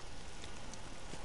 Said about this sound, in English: Now it's raining here.